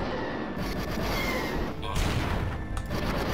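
Assault cannon fire in a Duke Nukem video game comes as a rapid, sustained volley of booming shots, dense and continuous at moderate volume.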